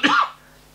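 A single short, harsh cough, close and fairly loud, then quiet.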